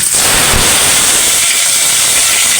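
Cumin and onion paste hitting hot oil for a koi fish and brinjal curry, giving a loud, steady hiss and sizzle that holds unbroken from start to finish with no talk.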